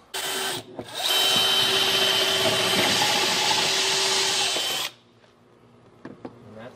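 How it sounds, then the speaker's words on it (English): A loud power drill bores through a stucco wall, whining steadily for about four seconds after a brief start, then stops, leaving faint clicks and rustles. "we'll drill through the wall, out through the backside wall, through the stucco"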